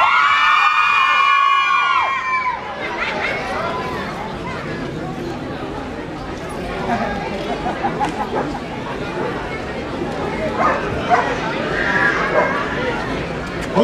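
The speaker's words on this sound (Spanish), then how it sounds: "Solo mujeres con gritos, ¿ok?" Women in a festival crowd at the Bully Show Festival in Medellín, 2016, let out loud, high-pitched screams that swell and fade. The screaming then gives way to cheering and general crowd hubbub that carries on to the end.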